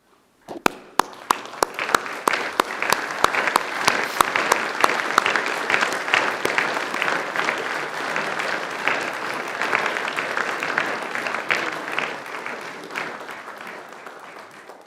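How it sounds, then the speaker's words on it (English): A standing audience at a Macquarie University graduation ceremony applauds. A few sharp early claps quickly swell into dense, sustained clapping from the crowd that slowly fades toward the end. "turn to the people behind you and to give them a round of applause"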